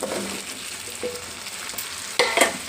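Cucumber pieces are stirred into tomatoes frying in a pan, giving a close, steady sizzle with scraping spoon sounds and a louder clatter near the end.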